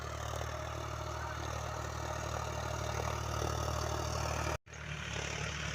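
An electrically powered machine for coating manjha kite string, connected through an adapter, runs with a steady, dense motor drone. A short cut-out near the end is followed by the hum carrying on, with no voices.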